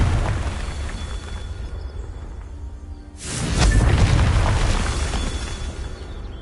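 A fiery blast from the Confringo spell in a wizarding video game erupts with a loud, broad boom that swells and lingers for a few seconds over a steady game backdrop.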